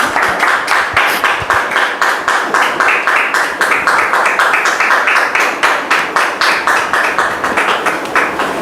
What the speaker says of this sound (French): Germain Onokpo et sa fille Samira Quadio, que nous recevons sous vos applaudissements.